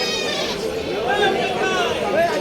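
Crossbred goats bleating at a crowded livestock market, several wavering cries rising and falling close by amid a busy murmur of people talking in the background.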